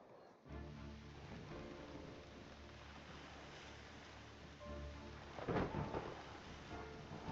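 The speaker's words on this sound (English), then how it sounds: "Yar, the storm is a fierce one." A fierce thunderstorm with rain at sea rumbles on steadily, a broad wash of rain and surging water with a loud thunder crack swelling near the end, no voices.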